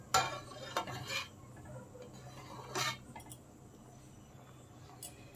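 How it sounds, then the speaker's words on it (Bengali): A spoon skims foam off boiling chana dal in a pot, giving a few light metallic clinks and scrapes against the pot at the start and middle. Fainter taps come later over a low simmering background. "ডাল ফুটে গেছে, এখন ডালের ওপর থেকে আমি ফেনাটা ফেলে দেব,"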